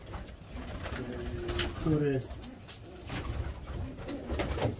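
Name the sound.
pigeon cooing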